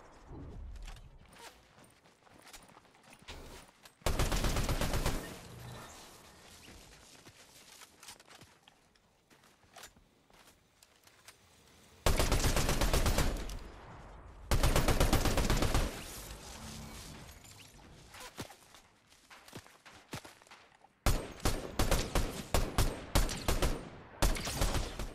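Fortnite gunfire comes in loud, abrupt bursts separated by quieter stretches of movement and mechanical clatter, with rapid shots clustering near the end.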